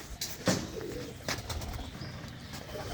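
Kept pigeons at a loft coo in low, throaty bursts close by, with a few sharper flutters against a continuous background.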